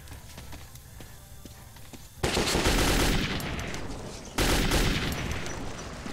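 Heavy gunfire in the Metro 2033 video game, including shotgun blasts: quieter shots and footsteps give way to two loud, sustained bursts of rapid fire that each ring out and fade.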